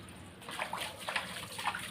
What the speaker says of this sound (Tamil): ஒரு 2 பாத்திரம் கழுவிட்டு துளைக்கிட்டு அதுக்கப்புறம் கழுவி வச்சிடலாம்